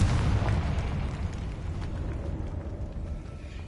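Confringo fire spell explosion in Hogwarts Legacy, a loud booming burst at the start that rumbles and decays over the next few seconds.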